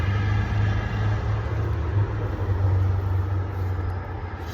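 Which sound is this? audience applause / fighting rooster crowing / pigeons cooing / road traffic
road traffic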